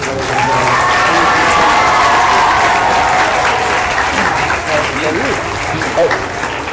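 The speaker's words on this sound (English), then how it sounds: "One more round of applause for our teachers." Sustained applause from a graduation ceremony audience fills the room, a dense steady wash of many hands clapping, with voices talking over it and a few louder claps near the end.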